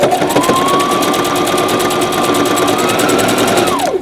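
A sewing machine runs a decorative stitch on a canvas tote in one loud, continuous burst of rapid stitching, close up, that winds down at the end.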